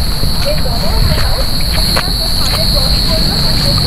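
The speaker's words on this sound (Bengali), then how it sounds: "ঝিঝি পোকার আওয়াজটা শুনুন।" Crickets chirp at night near a beach on the Bengal coast, a steady, shrill, pulsing drone that fills the background without a break, with faint ambient rustle underneath.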